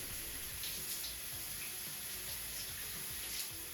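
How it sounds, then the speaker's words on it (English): Shower water runs steadily while rinsing braided hair, a continuous broadband hiss of spray and splashing, close and even throughout with no talk. "I will then step into the shower and thoroughly rinse my hair."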